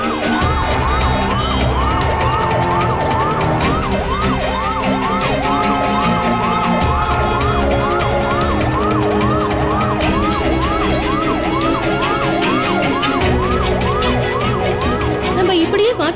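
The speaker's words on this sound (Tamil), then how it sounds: "அந்த ஆம்புலன்ஸ் எங்கிருந்து அனுப்புறது முக்கியம் அதுல பேஷண்ட் யாராவது கண்டிப்பா இருப்பாங்க" An ambulance siren wails loudly and continuously, its rising and falling tone repeating in a fast, regular cycle, with traffic rumble underneath.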